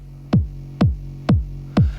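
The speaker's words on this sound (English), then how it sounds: "I mean, this is just your basic 909 kick," Four punchy 909 kick drum hits, evenly spaced about half a second apart, each with a sharp click and a deep pitch-dropping boom shaped by multi-band dynamics, loud and dry with no talk.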